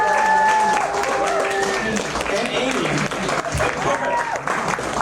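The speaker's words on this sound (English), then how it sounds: "So I want to give a huge round of applause to Josh for putting this on and making this happen." Audience applause at a community tech meetup, a steady wash of clapping from a crowd that runs the whole stretch, with someone speaking over it.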